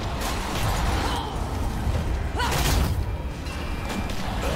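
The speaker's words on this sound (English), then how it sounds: "Oh! Big explosion!" A pipe bomb explodes in the video game Dead Island, a heavy rumbling boom with a whooshing burst midway, set against constant noisy in-game action.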